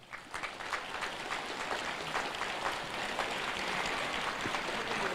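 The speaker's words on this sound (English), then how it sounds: "So can you give a clap that shows that you love yourself?" A crowd of schoolboys at a prize-giving day claps together, producing dense, steady applause that fills the whole stretch at a moderate distance, with no talking over it.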